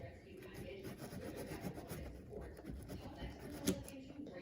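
Bondo body filler being mixed with hardener for a cab corner repair on a 2003 Ford F-250, a steady soft scraping and rubbing that runs continuously and fairly quietly, with no talking.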